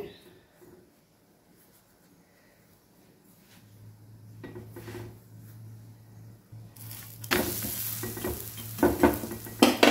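A gobhi paratha cooks on a pan with butter. After a quiet stretch and a low hum, a loud, crackling sizzle bursts in near the end, with a few utensil clinks and faint voices.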